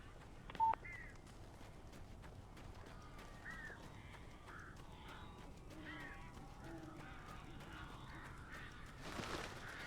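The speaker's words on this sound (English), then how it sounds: "These birds are weird." Crows caw repeatedly in Alan Wake Remastered, a series of harsh, moderately faint calls spread over several seconds after a short electronic beep, with a low game ambience underneath.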